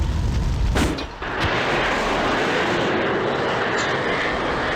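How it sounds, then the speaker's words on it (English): Cannon fire from a MiG-29 in the flight game Falcon 4 Allied Force, a short loud burst early on followed by a steady roaring jet engine drone, no talk. "He's still firing at me."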